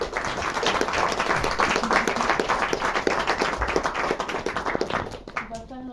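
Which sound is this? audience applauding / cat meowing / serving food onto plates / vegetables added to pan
audience applauding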